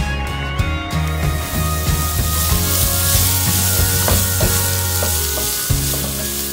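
Capsicum and cabbage fry together in a pan for broccoli fried rice, producing a loud, continuous close-up sizzle broken by repeated scraping stirs. No one talks.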